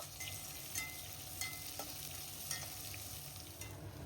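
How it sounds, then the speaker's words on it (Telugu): Vertically sliced onions, added after slit green chillies, frying in oil for a Muslim-style biryani, giving a steady close sizzle with a few light scrapes of stirring and no voices. "ఉల్లిపాయల్ని ఇలా బాగా ఫ్రై చేసుకోవాలి"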